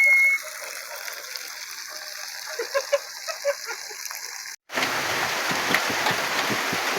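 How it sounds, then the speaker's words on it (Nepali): Rain falls outdoors in a forest, first as a quiet patter under faint background tones, then, after a brief cut, as a loud, dense, close hiss that carries on to the end. "पानी पर्यो मासु पोल्दा पोल्दै पानी पर्यो।"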